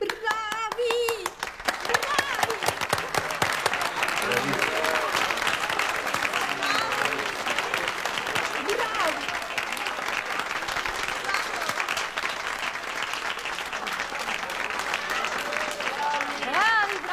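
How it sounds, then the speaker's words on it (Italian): A live audience claps for performers, with a sustained wash of many hands slapping together at an even, loud level for well over fifteen seconds, a few crowd sounds mixed in. "Un altro applauso per i nostri meravigliosi Tino, Lino e Tino."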